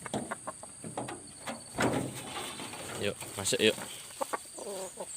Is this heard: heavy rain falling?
no